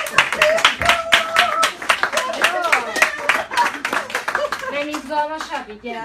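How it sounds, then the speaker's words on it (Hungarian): A small audience at a training demonstration claps hands in quick, rhythmic bursts, with voices calling and cheering loudly over the clapping. "Gyere tapsolni!"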